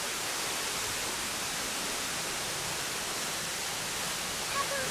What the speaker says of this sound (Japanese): 小滝到着なのだ